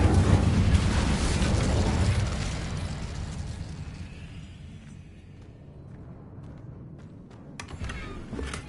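Fire spell Incendio cast in Hogwarts Legacy on PlayStation, a loud fiery burst and roar at the start that fades over several seconds into quieter game ambience, with a few sharp crackles near the end.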